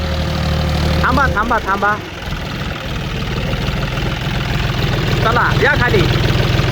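A John Deere tractor engine idles with a steady low rumble and vibration throughout, while people call out and talk nearby over it.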